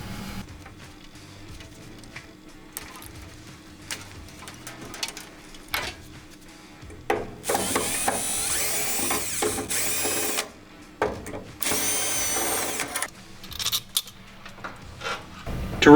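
A power drill drives screws out of a box fan on a Wells WVU ventless kitchen hood, with two long, loud whirring bursts amid quieter clicks and handling clatter.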